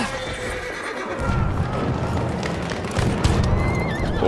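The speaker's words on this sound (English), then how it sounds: "Oh, horse, you're blocking the way." A horse in Battlefield 1 whinnies over clip-clopping hooves amid battlefield rumble, with the neigh rising clearly and the hoofbeats and low booms carrying on close and fairly loud.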